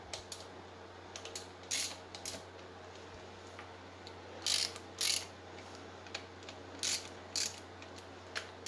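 A wrench works a bolt on a 2002 Suzuki Vinson 500 ATV during valve adjustment, giving a string of brief, quiet mechanical ticks and clicks in bursts over a steady low hum, with no talking.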